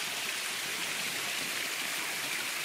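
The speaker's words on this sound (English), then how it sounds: "We are where the water comes out of the jungle above us" Steady broadband rush of water pouring from a natural spring source in the jungle, a continuous close wash with no breaks and no voices.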